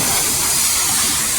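A high-pressure water jet sprays steadily and loudly, a continuous dense hiss close by with no pauses and no voices.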